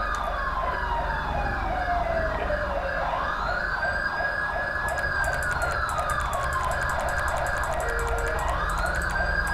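A wailing emergency siren rises and falls continuously, loud and steady, with a second higher siren tone joining partway through.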